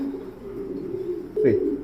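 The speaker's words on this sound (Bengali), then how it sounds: "আমার হাতে একটা পাইথন ব্লাডের কবুতর" A racing pigeon of Python bloodline gives a single close, throaty coo near the end, rising out of a low steady hum.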